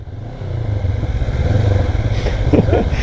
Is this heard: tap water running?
no